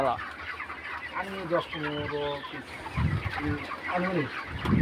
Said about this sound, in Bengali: এখানে কটা মুরগি আছে ভাই